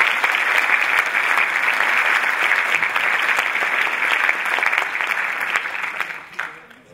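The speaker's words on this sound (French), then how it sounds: "on peut applaudir la librairie." An audience at the Wallonia book fair claps steadily, a dense sustained round of applause that fades out at the end.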